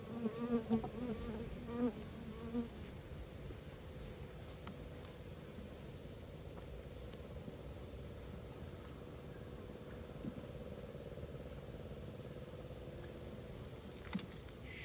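A steady, dense buzzing of many honeybees fills the whole stretch, continuous and close, with a few louder passes near the start and end.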